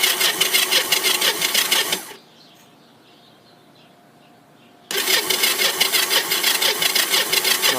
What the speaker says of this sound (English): I don't want to sit on the starter all day